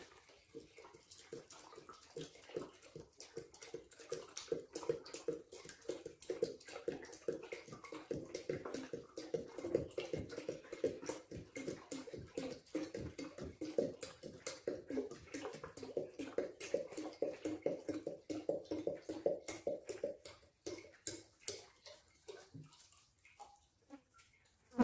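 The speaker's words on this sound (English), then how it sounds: "I'm going to dump this 2 liters in here." Two liters of liquid are poured into a home fruit-wine fermentation vessel, a steady splashing gush for about twenty seconds that trails off into a few drips, moderately close and fairly quiet, with no talking.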